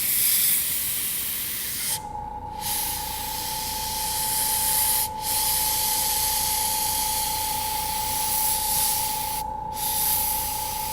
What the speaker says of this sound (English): I'm going to turn my airbrush way down here, and then I'm going to paint right back to the edge